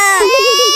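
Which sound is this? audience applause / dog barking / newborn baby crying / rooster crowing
newborn baby crying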